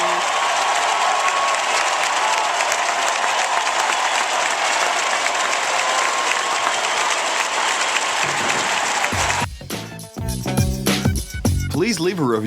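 An NBA arena crowd roars and applauds Dirk Nowitzki's 20,000th point in a loud, sustained wash of clapping and cheering. It cuts off abruptly near the end, and a voice follows.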